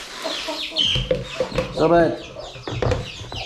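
Hens cluck and squawk in a chicken house on an Australian farm, several birds close by in busy overlapping calls, with a brief spoken remark mixed in.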